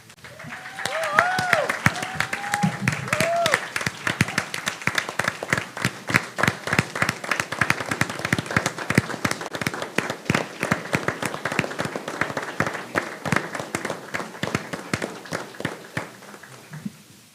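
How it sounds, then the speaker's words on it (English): An audience at a school board meeting claps in sustained applause, dense and even for the whole stretch, with brief voices rising near the start. "let's give them all a round of applause."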